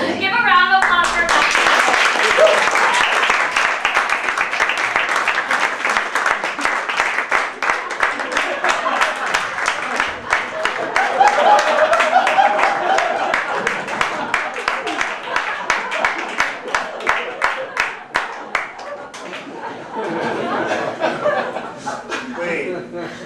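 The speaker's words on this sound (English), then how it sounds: "Give a round of applause for" An audience claps steadily for about twenty seconds, a dense patter of many hands mixed with chuckles and laughter, rising and thinning in waves before fading out.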